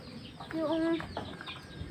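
A chicken gives a short, clear cluck in a coop, with softer scratching and clucking around it.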